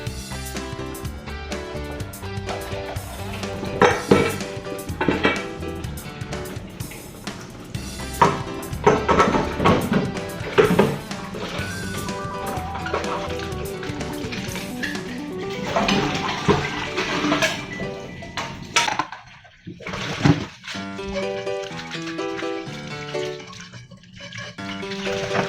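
Dishes being washed by hand under running water, with pots and plates clinking and clattering in irregular bursts, loud and close, alongside a tonal musical background.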